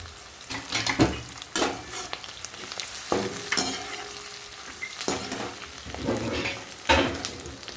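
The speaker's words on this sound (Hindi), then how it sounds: "प्याज को थोड़ा सा पकाएंगे। उसके बाद ये जाने देते हरी मिर्च और अदरक।" Onions sizzle and fry in a pan with green chili and ginger, a steady loud crackle broken by several sharp stirring scrapes and clatters of a utensil against the metal, with no voices.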